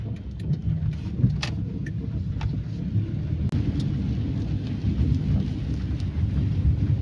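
A car drives through the first monsoon downpour while thunder rumbles, giving a heavy low roar of rain on the body and engine hum, with faint raindrop ticks above, steady and enclosed, no talking.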